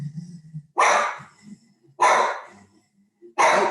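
A dog barks at people and dogs passing in the street, three loud sharp barks about a second apart, with a low rumbling growl before the first.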